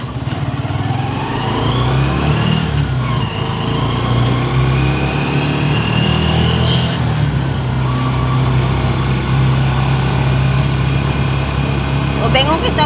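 A motorcycle is ridden in a crowded provincial area near a volcano in Canlaon City, its light engine buzzing steadily and loudly while voices talk over it.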